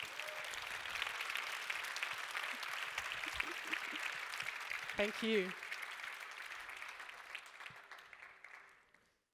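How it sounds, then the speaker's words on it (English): Moderately quiet applause from a conference audience at a youth event, steady clapping with a brief spoken thanks partway through, tapering off at the end. "Let's give them an applause"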